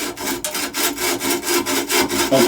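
Rhythmic back-and-forth sawing with a round file saw blade, rasping, steady strokes about four per second, close and loud with no talking.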